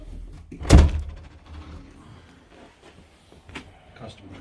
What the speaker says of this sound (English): Ah, wow, the door's stuck.